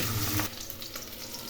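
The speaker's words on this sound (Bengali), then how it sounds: "ওই মাছগুলো ভেজে নিচ্ছি" Steady, close sizzling of pabda fish frying in hot oil, a dense crackling hiss that eases slightly after the first half second.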